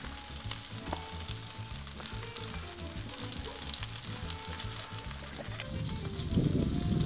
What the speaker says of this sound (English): I'm going to add a little bit more oil around some of them, get them frying good.